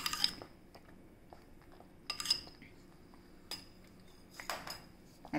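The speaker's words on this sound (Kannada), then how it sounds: "ಈಗ ಒಂದು ಸ್ವಲ್ಪ ತುಪ್ಪ ಸೇರಿಸ್ತಾ ಇದ್ದೇನೆ." A metal spoon clinks and scrapes against a pan while ghee is stirred into Havyaka-style wheat-rava sheera, a few sharp clatters spread across a quiet kitchen background.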